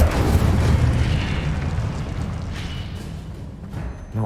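Incendio fire spell cast during a Hogwarts Legacy battle, a loud roaring burst of flame with heavy low rumble that swells at the start and slowly fades, a few faint crackles and a brief thump near the end.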